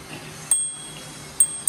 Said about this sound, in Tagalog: Mag-bell ka nga.